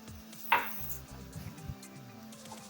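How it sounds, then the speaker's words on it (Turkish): Dry orzo pasta poured into a pan for chicken orzo pilaf, giving one short rattling burst as the grains land, followed by faint light scraping and stirring in a quiet kitchen. "2 su bardağı arpa şehriyemizi ekliyoruz."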